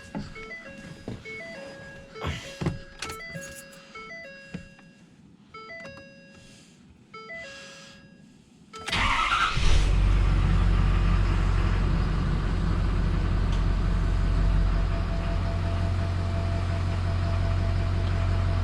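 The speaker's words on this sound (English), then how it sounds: "crank it up and let it run a little bit and check the oil." Dashboard chimes and beeps sound in a Ford F-250 with the 6.7 diesel. The engine then cranks and fires with a sudden roar before settling into a loud, steady, close diesel idle that runs alone to the end.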